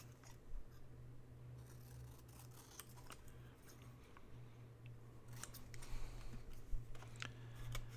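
Scissors snip and trim a white edge off a paper scrap, a few quiet cuts scattered over a low steady hum.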